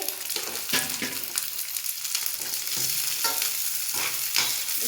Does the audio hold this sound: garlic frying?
yes